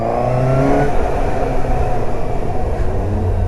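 A Suzuki GSX-S750 four-cylinder motorcycle engine revs up with a rising, smooth whine and steady roar, loud and close, no talking.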